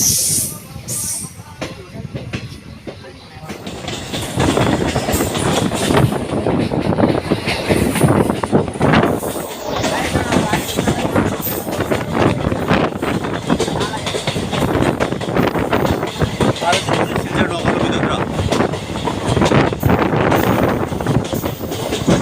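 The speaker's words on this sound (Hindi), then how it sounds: "अभी हम सिलचर गुवाहाटी एक्सप्रेस में" The Silchar Guwahati Express rumbles through a railway tunnel with a loud, continuous roar and rattling wheel noise that swells and holds steady, heard from on board, with a voice talking over it.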